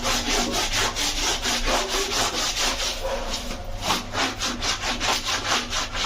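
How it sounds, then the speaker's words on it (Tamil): A white shirt collar is scrubbed by hand without a brush, making brisk, rhythmic rubbing strokes of fabric on fabric, close and steady, repeating at a quick even pace with no talking. "நான் ப்ரஷ்ஷு போடாத இதில் ஏதாவது தேய்ச்சேன்"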